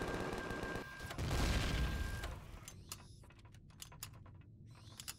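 Turrets firing in the survival game Empyrion, a heavy rumbling burst at first, then a series of sharp separate shots and clicks fading into quieter space.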